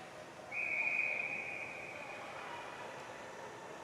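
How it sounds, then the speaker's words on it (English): A referee's whistle blows once, a sharp sustained tone of about a second at an under-18 provincial semifinal ice hockey game, heard over a hollow rink ambience. "Another quick whistle."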